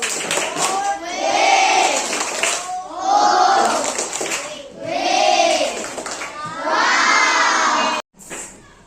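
A group of schoolchildren in a classroom shouting and cheering in loud, rhythmic bursts, with some clapping mixed in, close by and filling the space.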